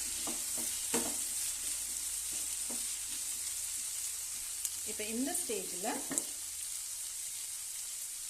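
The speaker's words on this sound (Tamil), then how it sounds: "லோ ஃப்ளேமில் மூடி வச்சு ஒரு 2 minutes குக் பண்ணியிருக்கேன்" Food sizzles steadily in a pan on a low flame, with scraping stirs and a few sharp ticks, while a voice talks briefly over the frying partway through.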